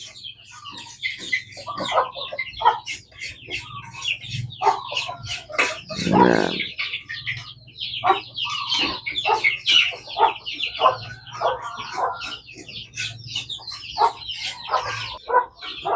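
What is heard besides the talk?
chickens clucking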